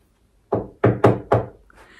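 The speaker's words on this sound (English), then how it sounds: "She recognized the aroma instantly and knocked briskly on apartment 5A." Four brisk, loud knocks on an apartment door, each sharp and close, the last three in quick succession, with quiet before and after.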